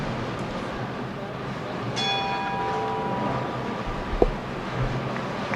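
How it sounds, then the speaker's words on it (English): A bell rings once to signal bowlers to begin their event at a USBC Open tournament, a short bright strike with a lingering ring and faint decaying overtones over a hushed, roomy bowling centre background. "Bowlers at the sound of the bell, you can begin your event"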